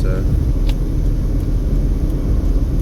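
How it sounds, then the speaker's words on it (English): Road traffic rumbles steadily on Interstate 15, a desert highway in Nevada near Valley of Fire, with trucks passing close by in a continuous loud engine and tire drone. "Always have to watch for these trucks out here."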